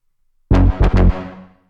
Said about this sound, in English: so this preset is called Agora